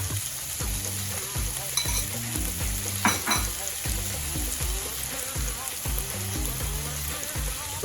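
Chicken instant noodles stir frying in a pan with bonnet pepper and noodle spices, a steady sizzle with bursts of scraping and tossing throughout, close and continuous, with some faint background voice or music.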